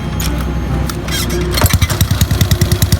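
A Honda Wave 110i motorcycle fitted with an aftermarket exhaust cranks and fires up, then settles into a loud, close, rapid popping idle.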